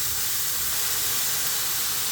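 Mushrooms sizzle in a hot pan as they cook for steakhouse-style garlic butter mushrooms, giving a continuous, close, fairly loud hiss with no voices.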